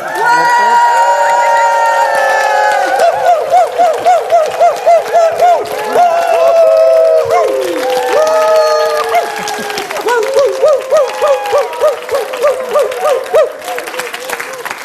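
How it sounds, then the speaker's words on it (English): An audience at an opening speech gives a standing ovation, with loud sustained clapping, whoops and cheering that rise and fall in rhythmic pulses, close and full throughout, sung or shouted voices weaving over the applause. "give ourselves and each other a standing ovation, cheering whoop whoop for all our forgiveness work"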